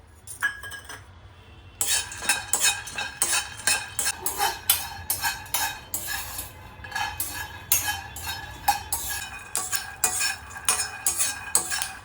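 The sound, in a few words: roasting peanuts in a hot pan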